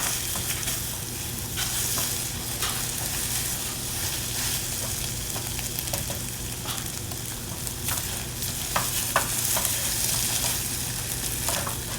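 Scrambled eggs sizzle steadily in a hot pan while being stirred, with frequent scraping and clicking of a utensil against the pan; close, continuous and fairly loud, with no speech.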